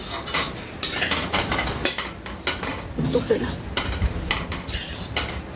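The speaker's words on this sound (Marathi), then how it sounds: "आता ती पुन्हा तुपामध्ये परतायची" Fenugreek seeds, soaked in milk and earlier roasted, being sautéed again in ghee over a low flame for methi laddoos, heard as repeated metallic spoon scrapes and clinks against the pan over a soft sizzle, fairly close.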